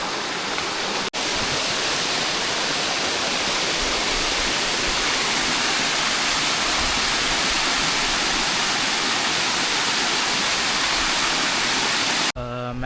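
A Sri Lankan mountain stream and waterfall on a trek toward Ohiya rushes steadily and loudly, a dense, unbroken roar of falling water close by, cut off by a brief break near the start and again at the end.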